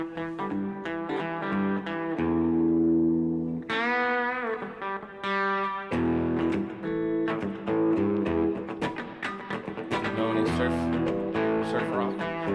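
Guitar played through a Catalinbread reverb pedal, sustained chords and picked lines with a lush ringing wash, some bends and slides, steady and fairly loud throughout.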